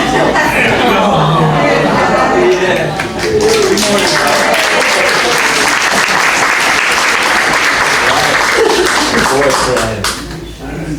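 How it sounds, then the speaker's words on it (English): Sustained applause from a crowd, dense and loud throughout, with cheering and chatter mixed in, fading slightly at the end. "He loves the applause."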